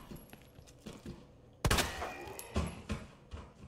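Gunfire from the Resident Evil 2 video game in a police station: a loud, sharp shot bursts out midway, followed by a couple of smaller cracks and thumps over a quiet, murky game background.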